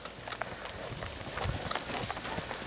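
Hooves of a chestnut Lusitano broodmare walking, with soft, irregular clip-clop steps close by over a steady outdoor background hum and no talk.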